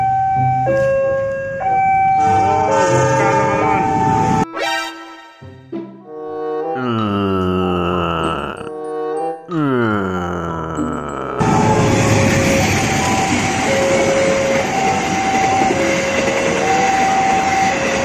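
A cow-head locomotive approaches and passes, sounding long, loud multi-tone horn blasts over a rising roar of wheels and rails, ending in a dense, continuous rumble as the train goes by close.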